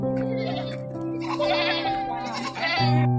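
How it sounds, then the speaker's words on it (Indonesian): Goats bleat nearby at the Tambakan livestock market in Banjarnegara, with several drawn-out, quavering calls over a steady hum and faint background chatter. "Kambing terbesar posisi saat ini di Banjarnegara Pasar Tambakan."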